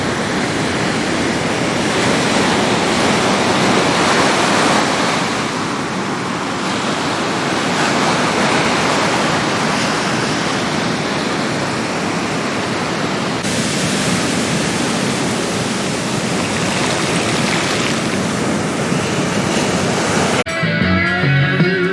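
Waves breaking on a black sand beach at El Paredon, Guatemala: a loud, continuous roar of surf with surging swells, no voices, ending in a brief different noise.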